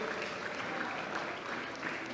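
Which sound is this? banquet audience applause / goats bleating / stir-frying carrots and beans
banquet audience applause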